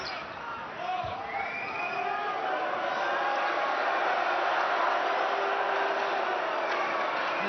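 Basketball arena crowd at a FIBA women's Olympic qualifying game between France and China jeers and murmurs in a sustained, rising swell, with a ball bounce at the start and a commentator talking over the noise.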